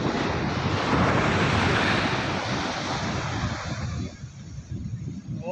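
Sea waves washing against the beach with steady wind rushing over the microphone, a broad continuous roar that eases slightly toward the end, with no talking.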